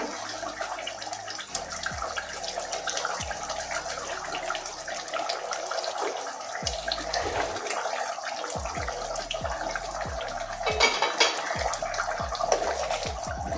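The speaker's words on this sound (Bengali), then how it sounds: "এই বন্ধুরা ঝোল ফুটে গেছে, এবারে মাছগুলো দিয়ে দেবো।" Bhola fish goes into a boiling curry with pointed gourd, bringing a continuous bubbling, gurgling boil with liquid splashes that grow slightly louder toward the end.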